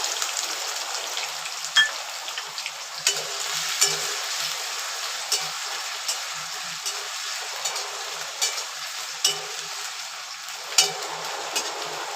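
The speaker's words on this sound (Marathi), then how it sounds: "सारखं ढवत राहायचं" Washed, drained potato pieces fry in a pan over a low gas flame as they are stirred steadily: a continuous close sizzle broken by regular scraping clicks of the spoon, with no talking.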